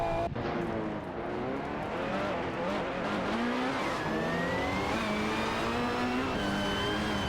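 Several racing cars, including a Ferrari LaFerrari, roar through a video game race with engines revving and pitch rising and falling as they accelerate and shift, alongside brief tire squeal, loud and continuous with no talk.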